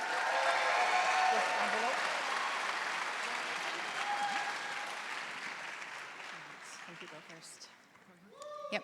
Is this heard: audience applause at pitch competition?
yes